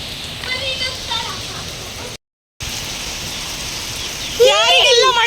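Heavy rain pours down in Mysuru as a steady, dense hiss that continues almost unbroken apart from one short silence, with a thin whistling sound near the end.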